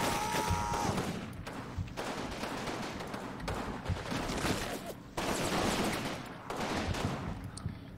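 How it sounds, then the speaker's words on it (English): Infantry trading fire in the war game Combat Mission Fortress Italy, with dense, continuous volleys of rifle and machine-gun shots, loud and sustained with brief lulls and no talk. "as our guys exchange fire with these enemy troops"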